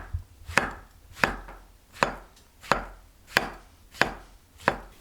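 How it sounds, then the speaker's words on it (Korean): A knife slices shiitake mushrooms thinly, giving eight crisp, evenly spaced cuts about two-thirds of a second apart, close up, with no talking. "시래기와 같이 밥 위에 올릴 표고를 얄팍얄팍하게 썰어주세요."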